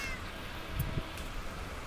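A cat meows briefly in a Minecraft game, two faint short calls over a steady background hum with no talking.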